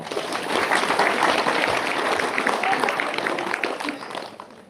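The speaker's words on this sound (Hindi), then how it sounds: "चलिए ताली बजा दिया जाए।" Audience at a live Ram Katha religious gathering claps steadily together, a dense sustained burst of applause lasting several seconds before gradually thinning out.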